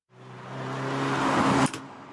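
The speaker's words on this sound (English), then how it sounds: "And that's just the sound of a car." A car sound effect sampled in a song swells over about two seconds with a low engine-like hum and broadband rush, then cuts off abruptly into a softer tail.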